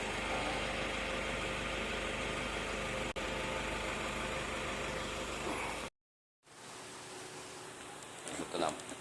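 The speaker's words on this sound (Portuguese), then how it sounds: "E o barulho é bem lá na turbina" A Toyota Hilux engine running with a noisy turbocharger, a steady mid-pitched drone with a whistling hiss that cuts out briefly, then returns with a rising whine and some clatter.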